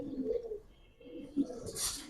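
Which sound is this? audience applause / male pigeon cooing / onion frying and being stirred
male pigeon cooing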